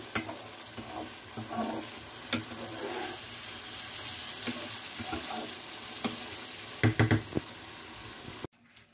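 Fish frying in a pan: a loud, continuous close sizzle with occasional stirring and scraping knocks, and a brief sharper clatter shortly before the sound cuts off.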